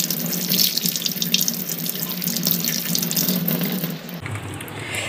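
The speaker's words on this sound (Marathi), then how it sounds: "तर ॲपल ना चांगला धुवून घेता आहे स्वच्छ" An apple rinsed clean under a running kitchen tap, a steady close rush of water splashing into the sink throughout, its tone shifting near the end as the flow changes.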